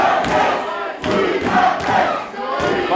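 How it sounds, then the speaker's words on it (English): A wrestling crowd at an indoor independent event roars steadily, a dense wash of cheering and shouting that swells and dips over a few seconds, with no clear announcer voice on top. "This crowd is ready."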